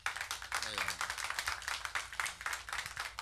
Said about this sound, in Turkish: O güzel alkışlar bizleri dinleyen bütün değerli dostlarımız için gelsin